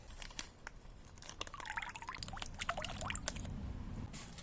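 Calcium chelate fertilizer, about 50 ml to 10 litres, being mixed into water in a garden for foliar spraying of cucumbers: soft sloshing and dripping with scattered clicks and taps, fairly quiet and close, with no talking.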